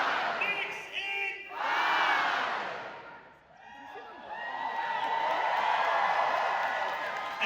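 Large rally crowd chanting "Knicks in!" in loud unison, swelling in repeated waves of massed voices with cheering, near and roaring.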